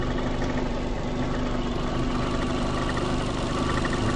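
A Fiat Panda 100hp engine idles steadily up close, a constant even hum with a faint whine running through it, left running while warming up with no voices over it.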